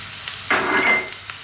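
Fresh mushrooms drop into a hot pan over lively heat and burst into a loud, steady sizzle that holds for about a second, with faint stirring scrapes before and after.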